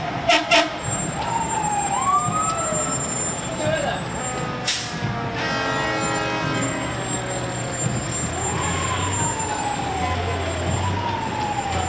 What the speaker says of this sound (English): We have the hazmat operations truck, special operations.